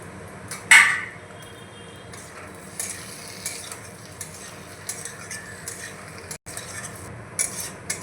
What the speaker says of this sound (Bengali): টমেটো কুচি দিয়ে আমি নাড়াচাড়া করে নিয়েছি।